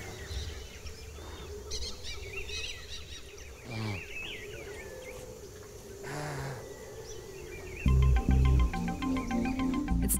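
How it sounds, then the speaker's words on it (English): Birds in the Amazon jungle give scattered whistled calls and trills from several directions, with a steady hum of forest and river ambience beneath them and a brief low rumble near the end. "You can hear the dolphins rising and blowing, and the birds are just everywhere."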